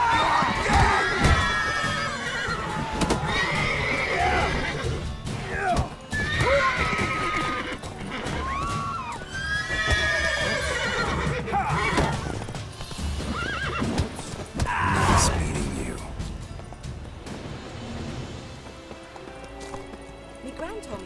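Roach, a horse in The Witcher 3, whinnies repeatedly while hooves clip-clop steadily at a trot, loud and close, with voices speaking over and between the neighs and a busy crowd murmuring in the background.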